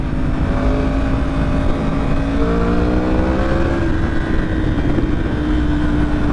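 A Mazda Miata pulls away at steady volume, its engine note rising in clear stepped harmonics as it accelerates and gears climb, with a continuous broadband rush underneath and no voices.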